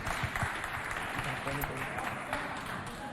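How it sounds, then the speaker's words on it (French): A crowd at a cultural centre event applauds steadily, the clapping dense and continuous, with talk running over it. "on les applaudit quand même"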